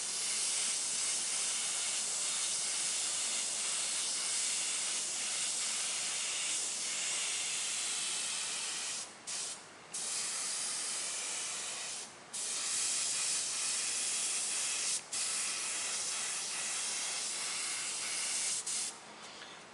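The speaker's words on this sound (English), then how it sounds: "Then I'm going to spray a little bit of black around to kind of separate the bones." Black spray paint hisses from an aerosol can over a stencil in a long, steady spray, broken by a few brief pauses and short bursts, close and fairly loud with no voices.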